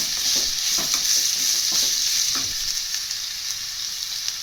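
Ginger-garlic paste and grated carrot fry in a pan, a loud steady sizzle with rhythmic spatula scrapes and taps repeating every half second or so, close up and with no voices.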